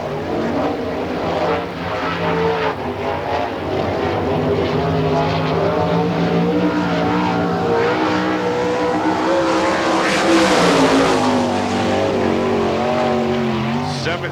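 A sprint car takes the green flag at an All Star Circuit of Champions Spring Nationals race in Hartford, Ohio, its engine droning steadily and then surging louder as it accelerates, with an announcer talking over the noise.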